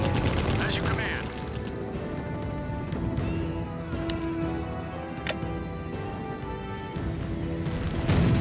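Battle gunfire in the Empire Earth strategy game, crackling volleys of shots over a constant dense background of combat noise, with a few sharp isolated cracks standing out.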